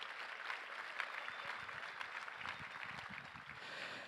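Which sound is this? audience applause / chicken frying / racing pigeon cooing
audience applause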